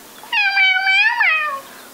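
A cat gives one long, clear meow with a rising then falling pitch, close and loud in an otherwise quiet room.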